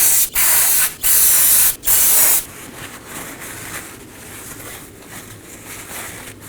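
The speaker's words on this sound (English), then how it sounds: "Now I'm going to clean everything up with some brake cleaner and a clean rag." Brake cleaner is sprayed onto the rear axle of a 2018-2024 Chevrolet Equinox during an inner seal job, coming as three loud, close hissing bursts followed by softer dripping and fizzing.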